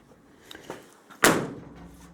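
A 1929 Chrysler car door slams shut once with a sharp, loud thud that rings out and fades, preceded by a few faint clicks and rattles of the handle linkage.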